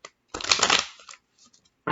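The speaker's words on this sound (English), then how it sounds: "We'll do 5 shuffles." A deck of cards is riffled in one dense burst of fluttering slaps, followed by a softer faint rustle and a brief second flurry at the end.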